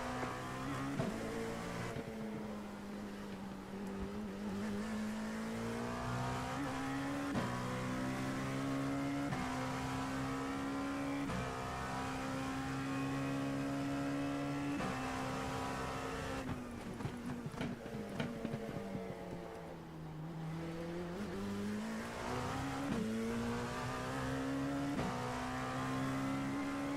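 Race cars lap Sebring in iRacing, with a continuous droning engine note rising and falling through gear changes and corners, sustained throughout at moderate level with no speech.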